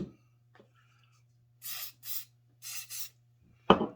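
Short aerosol spray bursts directed at super glue on a wooden ant model: two pairs of close, hissing puffs in quick succession, followed by a sharp knock at the end.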